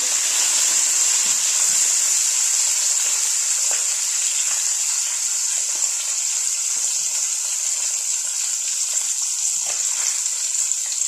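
Two large fish frying in a pan for fish biryani, a loud steady sizzle with a bright hiss that runs unbroken throughout, close up with no speech.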